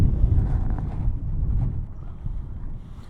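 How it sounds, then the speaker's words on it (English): Strong wind on the Duluth, Minnesota ship canal buffets the microphone in heavy low gusts, loud at first and easing slightly toward the end. "Again, it's pretty windy."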